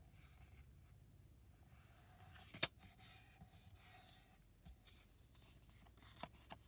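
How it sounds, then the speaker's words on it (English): Scissors trimming a paper cutoff for a Christmas scrapbook layout, quiet close snips with one sharper cut partway through, set among faint paper rustling. "go ahead and trim off that little bit of extra"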